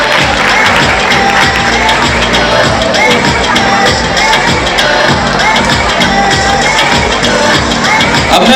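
Loud, dense applause and cheering from a college audience fill the room throughout, with whoops and crowd babble rising over steady clapping at a student event.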